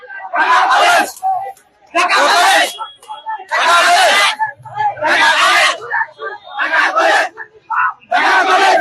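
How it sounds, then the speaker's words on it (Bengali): Protesting students from Dhaka College and City College chant slogans while seated on a road in Dhaka, a loud crowd shouting in bursts of call and response, with short pauses between each chanted phrase. "তারা কিন্তু স্লোগান দিচ্ছেন"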